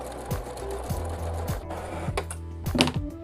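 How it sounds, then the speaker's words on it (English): Small sewing machine stitching down the legs of doll-sized jeans, a rapid mechanical whir with rhythmic needle clicks running steadily throughout at close range, with no talking. "We are going to be sewing down the legs up to the seams that we just sewed."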